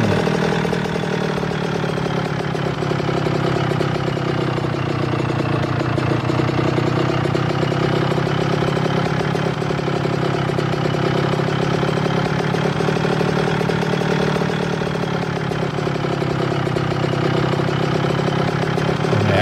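A 30-year-old moped engine runs steadily and loudly throughout, its tone dipping and rising slightly as it rides along, with no talking.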